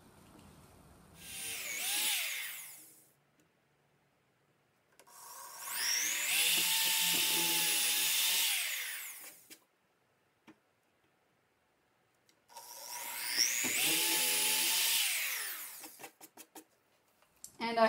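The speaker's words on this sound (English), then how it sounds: "now I'm just going to drill through these holes all the way through this board" A power drill bores through wooden boards while a wine rack is being built, in three long whining bursts with quiet gaps between them and a few soft clicks and taps at the end.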